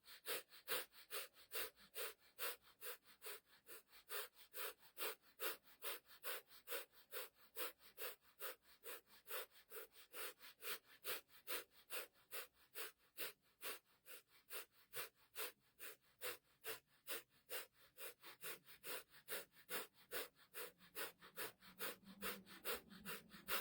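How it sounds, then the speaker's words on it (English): Rapid, evenly spaced nasal exhalations from a breath of fire breathwork exercise in a mindfulness class, forming a steady fast pulse of sharp sniffing bursts that runs close and continuous with no talk. "You're doing breath of fire."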